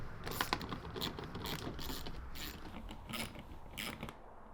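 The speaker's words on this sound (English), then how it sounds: "Nick just has to take this little ratchet with this little attachment and remove those." Small hand ratchet with an attachment loosening taillight bolts on a Corvette, giving a steady run of quick clicks and mechanical rattles throughout, fairly close with no talking.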